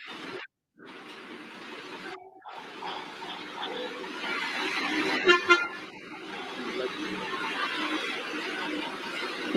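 Busy road traffic with a steady wash of passing cars close by, a couple of short horn toots in the middle and a brief interruption near the start.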